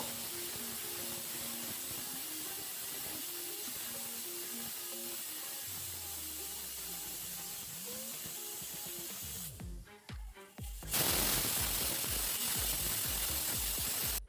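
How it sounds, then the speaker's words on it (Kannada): A pressure cooker of mushroom biryani sits on a medium gas flame and lets out a steady, close hiss of steam that builds and then bursts much louder near the end, with no talking. "ಇವಾಗ ಕುಕ್ಕರ್ ಮುಚ್ಚಳ ಮುಚ್ಚಿ 2 ವಿಸಲ್ ಬರೆಸ್ಕೊಳ್ಳೋಣ ಸಾಕು."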